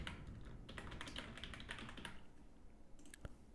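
An email address typed on a computer keyboard, a steady run of close, crisp keystrokes over about two seconds, then a pause and a few final taps.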